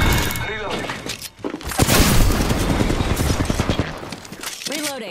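Heavy automatic gunfire in a video game, a dense, loud rattling burst of rapid shots with booming impacts, some voice-like chatter around it.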